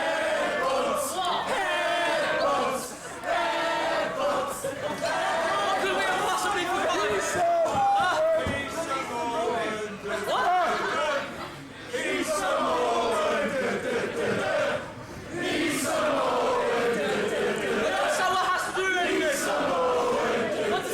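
Wrestling arena crowd jeering a wrestler, a dense continuous roar of booing and shouting voices that swells and dips, with a commentator talking over it.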